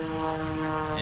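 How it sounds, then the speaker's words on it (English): Propeller airplane engines drone steadily and loudly at the 25th annual Stuart Air Show at Witham Field, a continuous buzzing roar with gusty wind underneath. "Engines buzzed at Witham Field in Stuart for the 25th year."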